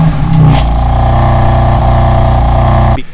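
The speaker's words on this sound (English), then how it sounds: "The S55, as we all know, is not the best sounding M car motor." A BMW F8x M3/M4 with the S55 engine revs hard through its exhaust, a loud, raspy, sustained roar held close for about three seconds before it cuts off abruptly.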